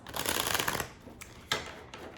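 Forest of the Fae mini tarot cards riffle in a quick, dense flutter for most of a second, followed by a few separate crisp card snaps, close and fairly loud, with no talking.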